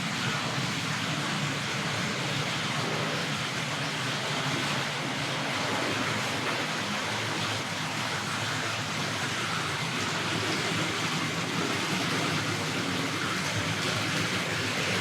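A Hornby Hall Class 4-6-0 model locomotive (R.765 Lord Westwood) hauling a long train trundles steadily around a model railway track, giving a continuous, even rumble with a fairly loud, broadband rolling noise and no talk.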